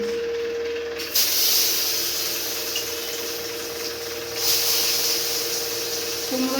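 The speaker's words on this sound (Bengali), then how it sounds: "এবার আমি ওই তেলে বড়ি ভাজা মাছ ভাজা তেলে লাউটা ভেজে নিচ্ছি" Bottle gourd fries in oil already used for fish and lentil dumplings, a loud continuous hiss that surges sharply at two points and then settles back to a steady sizzle.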